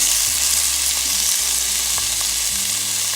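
Tomatoes fry in a pan with a loud, constant hissing sizzle, close and dense, steady throughout without pause.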